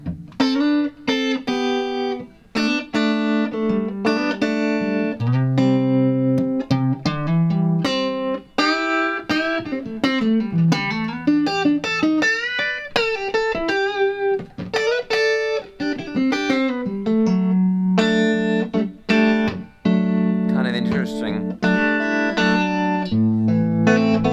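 Electric guitar played through an effects pedal, a steady stream of plucked notes and chords with a processed, shimmering tone, loud and continuous with no voices.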